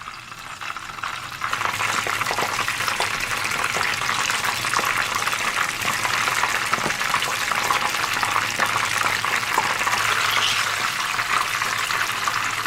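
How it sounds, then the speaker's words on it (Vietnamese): Battered eggplant pieces sizzle and crackle steadily in hot oil, a dense, continuous frying hiss that swells in after a brief quieter start. "Mình cứ nhúng bột và chiên lần lượt cho đến hết nha."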